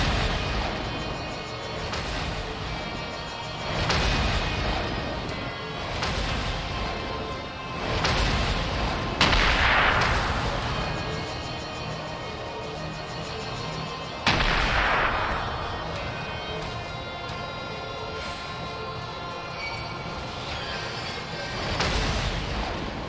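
Repeated booming blasts from an area attack in Final Fantasy XIV, a series of loud, evenly spaced detonations rolling one after another with a few sharper bursts standing out, and no talking over them.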